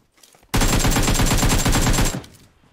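A loud, close burst of rapid automatic gunfire rattles for about a second and a half in the mobile game PUBG Mobile on the Livik map, then cuts off abruptly, with no voices.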